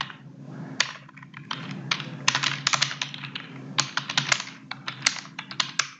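Fast, close clicking on a computer keyboard comes in uneven bursts with short pauses over a low steady hum.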